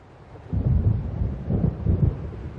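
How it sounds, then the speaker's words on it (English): Deep rolling thunder from an approaching storm in the video game Alan Wake Remastered, a low rumble swelling up after a quiet start and rolling on in several heavy surges, fairly loud, with no voices. "It seems there's a storm coming"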